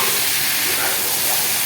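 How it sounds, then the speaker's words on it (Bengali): Pieces of eggplant fry in a pan during preparation of a Bombay duck curry, a loud, steady broadband sizzle and hiss filling the short moment without any talking. "বেগুনগুলো দিয়ে ভালো করে ভাজবো।"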